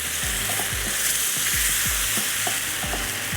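Chutney cooking in a pan, a steady loud sizzle and frying hiss with repeated scraping stirs at a regular rhythm, close up and without talk.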